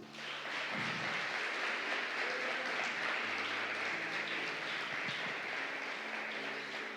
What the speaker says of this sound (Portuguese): Então aplauda Jesus.